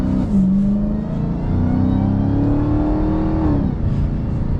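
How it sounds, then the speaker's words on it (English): Dodge Charger SRT Hellcat Redeye with an automatic transmission accelerating gently, its engine droning steadily and rising in pitch, dipping at a gear change and climbing again, loud and close from inside the cabin with no talk. "So slow acceleration in automatic there."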